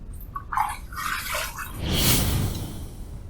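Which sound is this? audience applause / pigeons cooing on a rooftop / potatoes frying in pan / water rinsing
water rinsing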